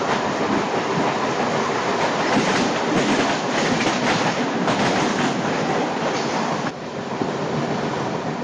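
An overnight train to Aswan in southern Egypt rumbles steadily along, with a dense, continuous roar of wheels and carriage noise and faint clicking from the rails, heard from inside.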